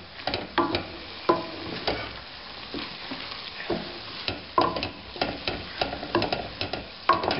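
Stuffed bell pepper filling sizzles in a pan while moisture cooks off, with a continuous soft frying hiss punctuated by repeated sharp scrapes and clacks of stirring.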